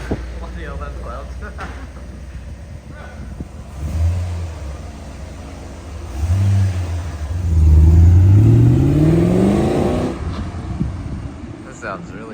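A rebuilt Holden VT Clubsport's 5L V8 engine revs hard in repeated bursts, rising in pitch and then falling back to a deep idle rumble, loud and close, with someone talking in between.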